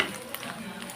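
Chicken biryani rice being stirred in a pot, a soft, steady scraping and shuffling with faint sizzle, close and fairly quiet for about a second, with a brief voice nearby.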